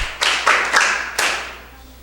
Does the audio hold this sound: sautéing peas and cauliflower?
no